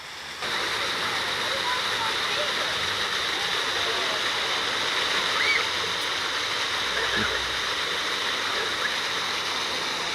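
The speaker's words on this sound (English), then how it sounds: "when the bucket fills up, they just pour their water." Water pours and splashes steadily from filled buckets at a water park, a continuous rushing cascade heard from nearby with only slight swells in level.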